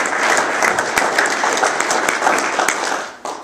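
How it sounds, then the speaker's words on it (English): A seminar audience gives the organizer a loud round of applause to open the day, dense close clapping with a few standout claps, tapering off at the end. "I think we all owe him a round of applause to start the day out"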